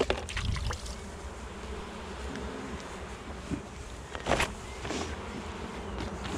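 Honey bees hum in a steady, soft drone around a hive at an apiary during a spring swarm-season inspection in poor weather, close but faint, with occasional handling noises and no talk.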